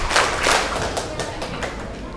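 Children clap together on command during an Islamic aqidah study session at a girls' school. Several loud, ragged bursts of group clapping come first, followed by a few lighter, scattered claps.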